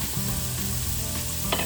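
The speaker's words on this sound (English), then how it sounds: "Stir it up until it's completely brown." Ground beef and fresh onion sizzling in a skillet as they are stirred, a close, steady frying hiss with a faint scrape near the end.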